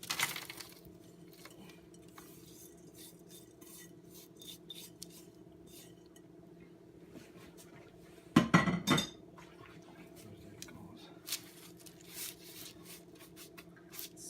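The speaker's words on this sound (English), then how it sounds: "And then I was just gonna spread it out on the baking sheet." Granola is spread across a baking sheet with quiet scraping and rubbing, and one louder clatter of a utensil against the pan partway through. The rest is soft, scattered handling noise.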